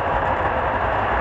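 A model train runs on a layout during a family operating session of a Coal and Steel Railroad and PRR setup, with a steady, continuous rumbling roll at close range and no talking.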